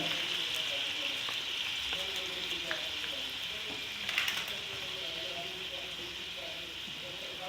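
Chicken nihari masala and yogurt being sautéed in a cooking pot, giving off a steady, even sizzle throughout with faint scattered stirring noises.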